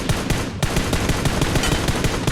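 Rapid automatic gunfire in PUBG Mobile, a dense rattle of closely spaced shots that runs loud and steady through the whole stretch with no voices.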